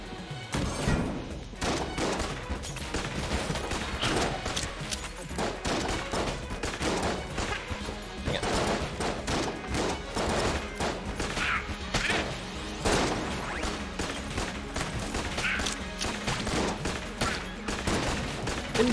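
Rapid bursts of gunfire in the bullet-hell dungeon game Enter the Gungeon, sharp cracks and thuds stacking into a chaotic volley that runs almost without a break, with a voice speaking now and then.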